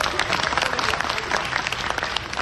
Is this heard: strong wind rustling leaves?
no